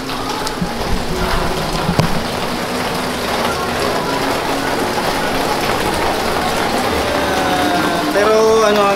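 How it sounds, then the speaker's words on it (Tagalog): Rain falling at a resort in Pansol, Calamba, Laguna, a continuous light hiss of drops on surfaces, with traffic or engine noise beneath and people talking intermittently. "Inabot kami ng ulan dito."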